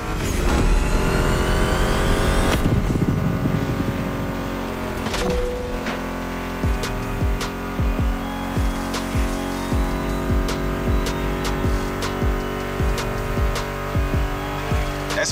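American muscle car engines in The Crew Motorfest roar loudly at first, then give way to a steady drone with repeated sharp transient hits over a music soundtrack.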